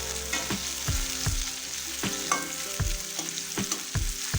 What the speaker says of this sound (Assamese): যেতিয়ালৈকে লাল নহ'ব তেতিয়ালৈকে পিঁয়াজটো ফ্ৰাই কৰি দিব